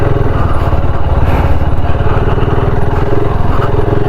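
BSA Scrambler 650 motorcycle ridden off-road through mud, its engine giving a steady, loud, chugging rumble that stays up close throughout with no voices over it.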